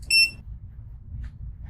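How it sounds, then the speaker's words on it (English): An HDMI matrix switch gives one short, loud electronic beep, then silence apart from a low background hum. "I like the beeping, so I'm going to keep it on."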